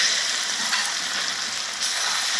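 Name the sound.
garlic added to pork frying on a sadj and stirred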